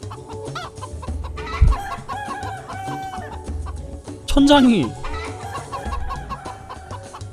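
Chickens cluck and squawk in a video game, with a rising cry partway through, mixed under game music and effects while people talk throughout.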